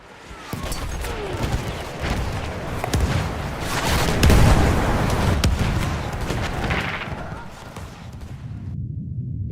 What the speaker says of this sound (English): They are bombarded by artillery fire to their trenches and all along their offensive line.